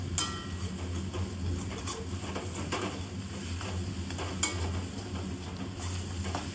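Mashed fish being stirred in a pan, a continuous scraping, stirring rhythm over a gentle sizzle with a few sharper utensil knocks, close and steady with no talking.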